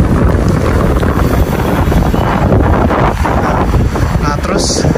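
Strong gusty wind buffets the microphone outdoors before a rainstorm in Beijing, leaves rustling, a loud continuous broadband roar with shifting gusts, no talk.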